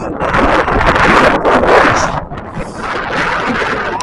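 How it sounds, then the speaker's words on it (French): Steady wind buffeting the microphone, a broad rumbling roar that gusts a little louder and softer throughout, with no voices. "Il y a juste un petit vent correct."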